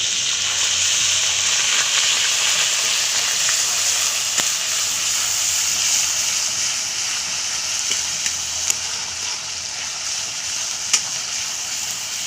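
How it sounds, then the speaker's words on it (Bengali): Onion paste and ginger-garlic paste sizzle steadily in hot oil with a pinch of salt, a continuous loud frying hiss broken by occasional scrapes and taps of a spoon stirring the pan. "পেঁয়াজ আদা রসুন বাটাটা একটু তেলের মধ্যে ভালো করে নাড়াচাড়া করে নেব"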